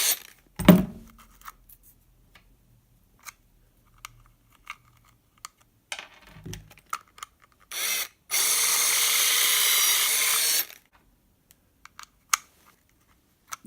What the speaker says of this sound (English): Now to a step drill to make it the proper size hole.